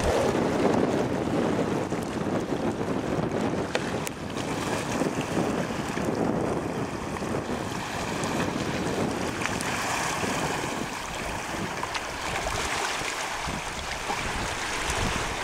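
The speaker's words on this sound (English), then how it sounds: "enjoying the sights of the fishing boats coming in and out of the Miminegash Wharf" Steady wind and surf roll in at Miminegash Wharf on Prince Edward Island, where fishing boats come and go; a constant loud rush of wind buffeting the microphone over lapping waves.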